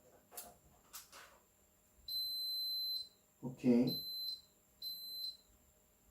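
Multimeter in continuity test mode giving three short high-pitched beeps during a repair of a Roland E-35 keyboard, with quiet clicks and handling sounds between them and a brief spoken word.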